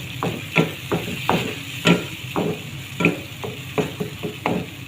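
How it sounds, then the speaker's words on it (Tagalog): Tomatoes frying in a pan for an egg dish get stirred with a utensil, giving a steady string of distinct scraping, tapping strokes about twice a second over a soft continuous sizzle, close and fairly loud, with no talking. "Haluin lang."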